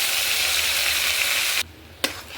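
Onion, garlic and ginger paste fries in a pan, giving a loud, close, steady sizzle that suddenly drops away near the end, followed by a single sharp clink and softer frying.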